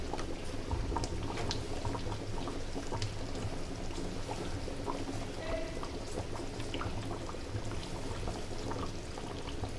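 Beef boils in a pot for biryani, a steady, dense bubbling that holds at an even, close level throughout with no voices.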